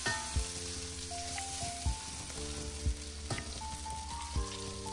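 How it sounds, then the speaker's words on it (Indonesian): Ingredients for mee goreng fry in a pan with a steady, close sizzle, broken by several sharp knocks and scrapes as they are stirred and tossed, with no voices. "Kalau saya memang suka dia goreng dulu baru nampak kita punya bahan ni masak"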